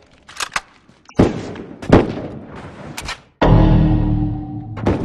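Rifle shots from a firefight in the video game The Last of Us ring out as several loud, sharp bursts spaced across the moment, ending in a sustained heavy rumbling blast with no talking.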